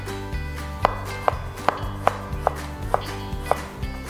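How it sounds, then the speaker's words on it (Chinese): A knife slicing ginger on a cutting board, about eight crisp, evenly spaced taps against the board, close and clear, over faint low background hum. "薑切一些薑片"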